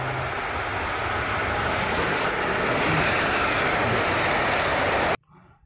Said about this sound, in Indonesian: Wah, ada si kereta api super cepat